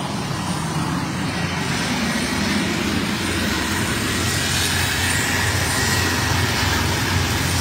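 A Mexican Air Force helicopter drones overhead, a loud, continuous engine and rotor roar holding steady throughout.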